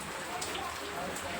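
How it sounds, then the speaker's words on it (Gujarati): Rain falls steadily during the monsoon, a soft, even patter and hiss of drops on surfaces, faint and continuous throughout the brief moment. "વરસાદ પણ આજ સવારનો એકદમ ચાલુ જ છે।"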